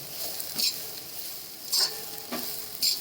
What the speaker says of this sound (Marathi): चटणी टाकून देते थोडं चांगलं असं फ्राय करून घ्यायचं मस्त पाहिजे